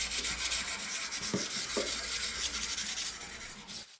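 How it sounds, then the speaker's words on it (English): A garage-sale furniture piece is scuff sanded by hand, a steady close rubbing rasp with a couple of stronger strokes partway through and a sudden stop at the end. "It's very much just scuff sanding and throughout the entire thing."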